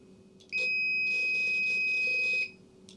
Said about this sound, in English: So you're going to hear a beep, and then it's going to tune.